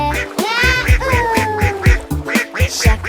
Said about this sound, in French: tous les canards criaient